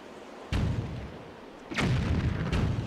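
Cannon turret firing in the Zelda Wind Waker video game: three sharp booming blasts, roughly a second apart, each with a short rumbling tail, loud and close with no talk.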